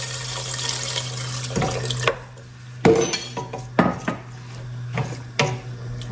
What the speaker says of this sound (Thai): หลังจากนั้นนะคะเราจะ ใส่ น้ำสะอาดลงไปนะคะ